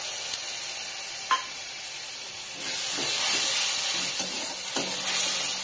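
Spice paste poured into hot oil with fried ginger in a pan, a steady close sizzle and hiss that swells louder partway through, with a few soft stirring clinks.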